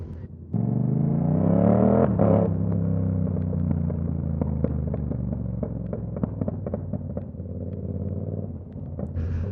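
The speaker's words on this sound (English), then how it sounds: "Oh, this bike is so loud." A Yamaha R7 sport motorcycle engine revs up hard through rising pitch, then holds a loud, rough, close roar with crackling, popping exhaust bursts as it runs on.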